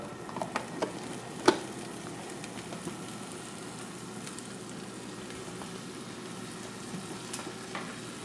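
Canned corn frying in butter in a pan, giving a steady low sizzle that runs throughout, with a few sharp clinks and stirring knocks, the loudest near the start.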